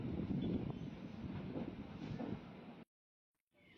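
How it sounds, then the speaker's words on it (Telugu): The Narsapur to Arsikere special train rumbles and rushes continuously in the distance, with wind buffeting the microphone, before cutting off abruptly near the end. "ఆ ట్రైన్ నర్సాపూర్ నుంచి అరసికేరి వెళ్ళే స్పెషల్ ఆ ట్రైన్"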